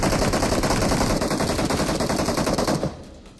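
UMP45 submachine gun firing in a mobile battle royale shooter, a loud, dense automatic burst of rapid shots lasting nearly three seconds before cutting off abruptly, no talking.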